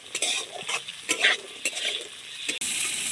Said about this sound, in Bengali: আলু আর পেঁয়াজটা দেখুন খুব সুন্দর ভাজা ভাজা হয়েছে এবার দিয়ে দিচ্ছি কয়েকটা মটরশুঁটি